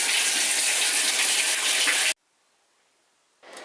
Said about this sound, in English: I've got the washer all filled up now